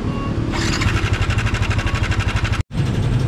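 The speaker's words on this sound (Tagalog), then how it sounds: "May kakaibang tunog ang na motor ko." A motorcycle engine with an odd noise runs close by, a steady rhythmic pulsing idle with a harsh rattling edge, briefly cutting out near the end before resuming.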